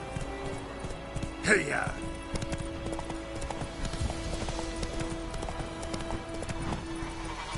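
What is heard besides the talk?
horse Roach galloping in a PS4 video game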